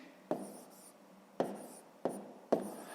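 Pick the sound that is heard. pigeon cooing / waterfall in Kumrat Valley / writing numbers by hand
writing numbers by hand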